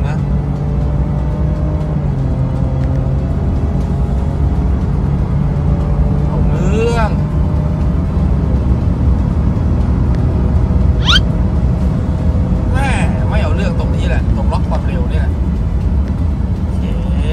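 Idling engine of a Ford Ranger Raptor Next Gen on its stock exhaust, a steady low rumble running throughout with occasional light revs, while people talk over it nearby.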